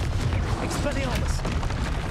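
Expelliarmus is cast in Hogwarts Legacy amid a steady, loud clamour of booming combat effects and crackling bursts, with a voice calling out over the noise.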